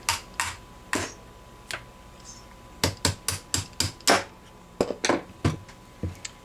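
Sharp metallic taps knocking a pin out of a Husqvarna 1870 rolling block rifle during field stripping, a close, loud series of irregular strikes, some single and some in quick clusters.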